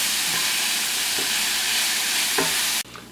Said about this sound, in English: We're going to saute this for about 5 to 10 minutes